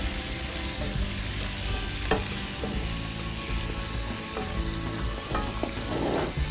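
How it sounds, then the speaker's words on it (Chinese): Garlic and onion stir-frying for Korean japchae, a steady close sizzle of oil with scraping stirs and occasional clacks of the utensil against the pan. "先放洋葱再炒一炒"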